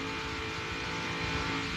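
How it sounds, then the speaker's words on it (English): Engine of Ernie Irvan's NASCAR stock car at the 1998 DieHard 500, heard from the on-board camera: a loud, steady, unbroken roar that stays up near full throttle with no gear changes. "Listen to the engine and you never hear change sounds."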